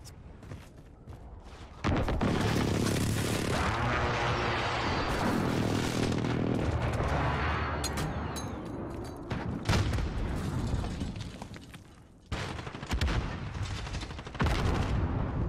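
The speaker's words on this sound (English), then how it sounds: "Enemy precision airstrike inbound." Precision airstrike explosions in Call of Duty Modern Warfare roar in as dense, loud booms and rumbling blasts mixed with crackling gunfire, carrying on for several seconds with a short dip before more impacts.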